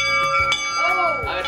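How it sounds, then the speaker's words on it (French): A bell rings with bright, sustained tones that ring on under a voice and other busy sounds. "Et à mettre la cloche."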